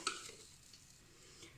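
A spoon stirs milk mixed with dry blender-ground rice in a bowl, beginning with a light clink and continuing as a faint, soft scraping swirl, quiet and close.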